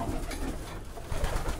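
Pigeons cooing in a loft aviary on a frosty day, a soft continuous murmur of overlapping throaty coos from several birds close by, with no talk.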